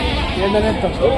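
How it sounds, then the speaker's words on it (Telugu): A goat bleats at a busy sheep and goat market, with wavering cries rising over a steady crowd murmur and nearby voices. "మీదేనా ఇది మేకపోదు"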